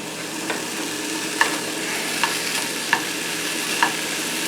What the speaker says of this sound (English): We've cut up the chicken into bite-sized pieces, and we are cooking it from a raw state